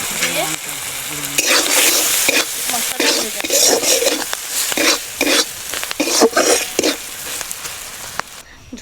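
Spiced soybean broth with green chili, garam masala and coriander-cumin powder bubbles vigorously in a pan, giving a dense, continuous sizzling hiss with occasional stirring scrapes.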